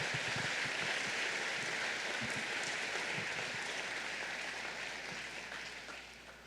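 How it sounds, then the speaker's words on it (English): A school assembly audience gives sustained applause for parents, dense clapping from a crowd in a hall that holds steady and then tapers off near the end. "if we could have a round of applause for parents who had to sit last night"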